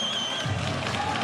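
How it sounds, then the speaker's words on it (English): Crowd cheering after a goal at an ice hockey game, Slovakia versus Kazakhstan at the World Junior Championship, a steady, broad roar of arena noise rising slightly, with no distinct claps standing out. "you start to hear the cheers of the crowd after scoring your second goal of the tournament"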